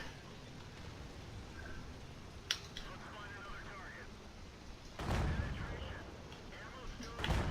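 A Skoda T25 Czech medium tank fires its cannon in World of Tanks, with booming shots landing at irregular intervals over a low rumbling game background.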